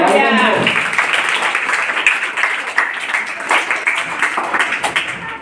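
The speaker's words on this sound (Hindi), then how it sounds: "Right answer. तालियां।" Applause from schoolchildren at a Children's Day quiz competition in an Urdu middle school, a loud burst of clapping that carries on steadily for several seconds after a brief voice at the start.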